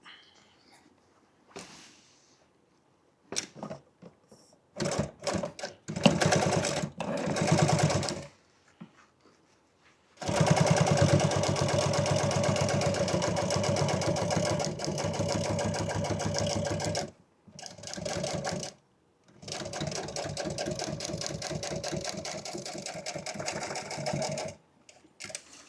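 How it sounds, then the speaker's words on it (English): A sewing machine stitches truck seat upholstery in bursts, short stop-start runs giving way to a long steady stitching run of several seconds, then a few more brief bursts, close and clear with no talk. "So we'll go ahead and sew these up."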